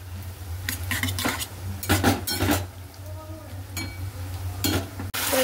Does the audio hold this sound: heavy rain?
no